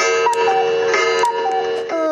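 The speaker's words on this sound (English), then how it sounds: "I heard a cuckoo clock." A cuckoo clock in a Roblox obby video game gives off loud, evenly spaced ticks with a ringing tonal chime running underneath, close and alone.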